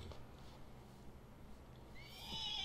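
Quiet ambient hum, then a horse in Red Dead Redemption 2 whinnies near the end, a rising, quavering neigh against the low background.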